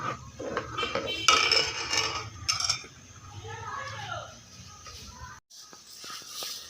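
Sugar is spooned into thickening milk khoya in a cooking pot over low heat, giving metallic clinks and scrapes of a spoon against the pot, with a short break near the end.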